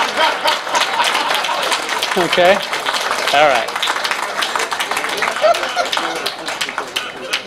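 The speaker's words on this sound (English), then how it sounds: "Give him a round of applause for helping me out." Audience applause during a live psychic demonstration, sustained clapping from a room of people with someone speaking briefly over it, the clapping steady and fairly loud before it tapers off.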